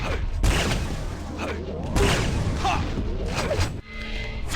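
Rockets exploding in a Quake Live match, several booming blasts and whooshes in quick succession amid game effects, with a commentator's voice running underneath.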